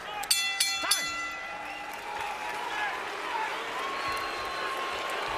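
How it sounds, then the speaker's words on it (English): Crowd noise at a boxing match, a broad murmuring roar from the arena building slightly over several seconds, with a few sharp knocks at the start and a commentator talking over it. "the boos are getting louder as the crowd seems to realize what they're watching"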